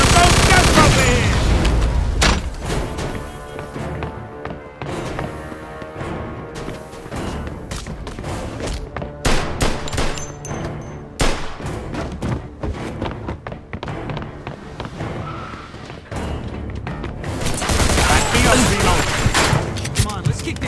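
Gunfire in the video game Mafia II Definitive Edition: rapid automatic bursts and heavy thuds and booms crowd the scene, loud at the start and end and more scattered in the middle.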